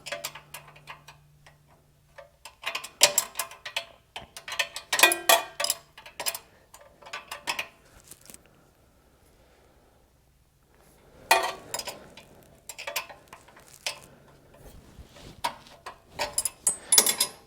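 Wrench ratcheting and clicking on a nut on a Coleman KT196 go-kart, close by, irregular bursts of quick metallic ticks separated by pauses and a longer quiet stretch, no talking.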